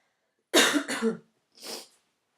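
Two harsh coughs close together, then a third softer cough after a short pause, close up with no talk around them.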